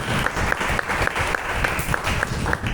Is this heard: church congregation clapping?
yes